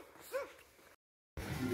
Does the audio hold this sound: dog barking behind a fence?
yes